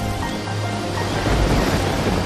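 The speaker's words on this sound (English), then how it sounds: "There were waves all around." Ocean waves surge and wash in a dense, continuous roar, loud and close, swelling slightly toward the end with no voices.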